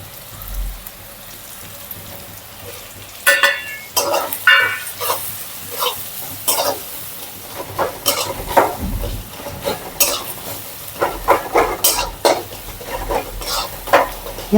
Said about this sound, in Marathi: जास्त चांगलं परतलं की त्याच्यामध्ये आपल्याला टाकायचे आहेत देशे